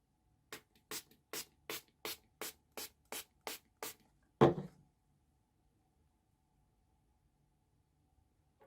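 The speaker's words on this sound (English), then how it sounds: "Last, we are going to use the E.L.F. Makeup Mist and Set. So I'm going to spray our face." About ten short, crisp hisses from an e.l.f. Makeup Mist and Set setting spray pumped toward the face in a quick steady rhythm, then a single louder knock or rustle and quiet.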